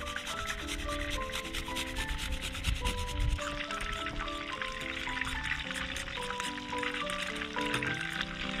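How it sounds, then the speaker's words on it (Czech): Garlic is grated against a kitchen grater in a steady, continuous rasping scrape, loud and close, running unbroken throughout with a faint musical tone in the background. "Česnek tam nastrouhneme."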